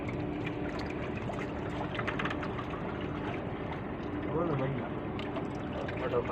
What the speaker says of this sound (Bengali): দেখেন গাইস কি সুন্দর ঢেউ রাত্রে কি সুন্দর ঢেউ দেখেন